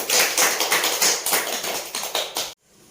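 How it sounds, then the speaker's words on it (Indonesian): Classroom applause after a student group's presentation, a burst of many hands clapping densely for about two and a half seconds before stopping abruptly. "Boleh beri aplaus."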